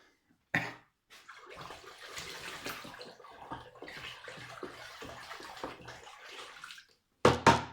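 Calcium-dosed water for Cattleya orchids gets whisked in a container, a steady close sloshing swirl lasting about five seconds, framed by a sharp clunk before and another after.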